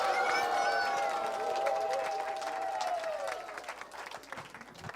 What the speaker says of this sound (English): can we please have a big, loud round of applause and Haribol for His Holiness Indradyumna Swami